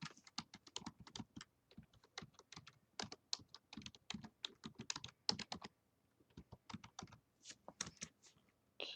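Keys on a computer keyboard clatter in quick, irregular bursts of close, crisp clicks as the alphabet is typed out in order, with brief pauses between runs and no voices.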